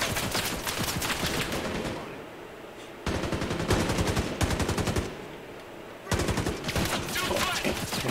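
Enemy machine-gun fire in a shooter game rattles out in three long, loud, fast bursts, each separated by a short lull.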